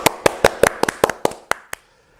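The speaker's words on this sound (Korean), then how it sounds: "오늘은 박수로 한번 쳐드리겠습니다." A small group in a news studio claps about ten times in an uneven rhythm, close and crisp. The claps thin out and stop, leaving near silence.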